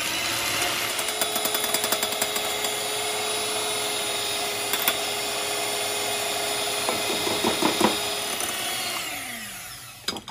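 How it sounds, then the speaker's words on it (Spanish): Electric mixer whipping powdered sugar icing for a Maria Luisa pastry in a bakery class, a loud steady motor whir running continuously for about ten seconds before it cuts off, with no talk. "Vamos a batir hasta tener la consistencia deseada."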